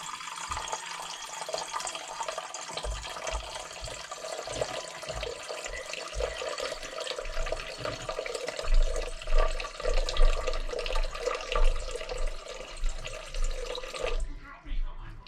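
Tepid water poured into a bowl on a scale for 70% hydration sourdough pizza dough, a steady close trickle and splash running for about fourteen seconds, growing fuller and more gurgling toward the end before stopping abruptly.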